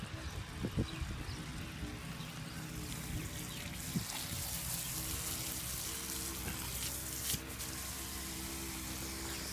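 Water gushes from a garden hose into a gopher hole, a faint steady splashing and trickling hiss with a low background hum and a few soft knocks, heard without talk.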